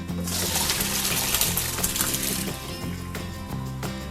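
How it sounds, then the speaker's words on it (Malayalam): Water from cooked rice, made for a special fried rice, pours through a strainer. A gushing stream lasts about two and a half seconds, then thins to trickling and dripping, close by. "ഇത് ഇനിയും ഒന്ന് സ്ട്രെയിൻ ചെയ്ത് ഈ വെള്ളം ഊറ്റിക്കളയണം"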